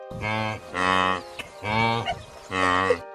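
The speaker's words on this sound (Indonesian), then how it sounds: "Suara wildebeest mirip suara kerbau" A wildebeest gives four long, loud bellowing moos that sound much like a buffalo, each a drawn-out nasal groan separated by short pauses.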